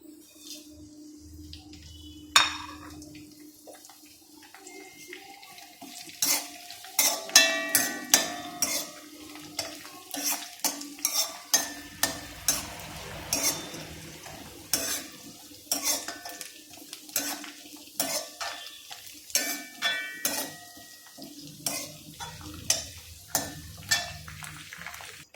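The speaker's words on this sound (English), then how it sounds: "Now you have cinnamon, cardamom and cloves with little curry leaves and rampan. We'll fry everything together here." Cinnamon, cardamom, cloves, curry leaves and rampe fry in hot oil with a soft sizzle, while a metal spoon scrapes and clanks against the pan in quick repeated strokes, dense in the middle and thinning toward the end.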